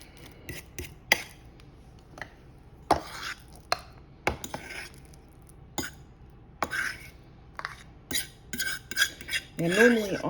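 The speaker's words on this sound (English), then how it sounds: "So I'm just simply mashing it with a fork." A fork mashes banana in a bowl for banana oat and seed cookies, giving close, irregular taps and scrapes of metal on crockery with brief pauses and a denser run of squishing near the end.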